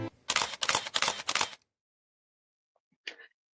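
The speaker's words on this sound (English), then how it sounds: "And you heard that camera shutter" A single camera shutter click, short and crisp, sounds after a brief burst of rhythmic music and a pause of silence.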